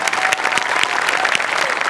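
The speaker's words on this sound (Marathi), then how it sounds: "जोरदार टाळ्या." Loud, continuous applause from a live audience right after a stage performance, dense clapping sustained without a break across the whole short stretch.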